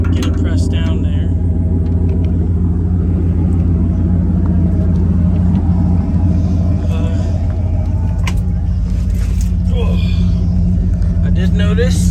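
An old dump truck bought cheaply at auction runs its engine while driving, giving a steady, loud low rumble with drivetrain noise throughout.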